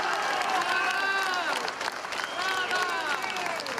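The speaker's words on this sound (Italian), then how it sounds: "Pioggia di applausi quando la segretaria del PD affronta il tema della sanità" A crowd applauds a party leader speaking about public healthcare at a political rally, sustained clapping with a speaker's amplified voice continuing over it.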